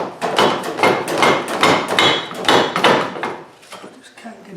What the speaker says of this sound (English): because these bolts are on slots, it should tap forward